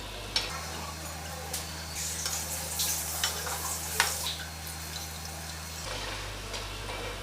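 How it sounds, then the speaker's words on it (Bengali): Dahi vada batter balls frying in hot oil over a medium flame, giving a steady close crackle and sizzle with scattered small pops and clicks, alone without talk. "এবার আমি বড়াগুলো ছাড়বো। মিডিয়াম ফ্লেমে এটাকে ভাজতে হবে।"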